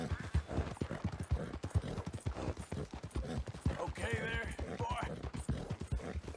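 Horse hooves clip-clop in a steady walking rhythm in Red Dead Redemption 2 as the rider's horse is caked in dirt, the hoofbeats running under ongoing talk along with other game sounds.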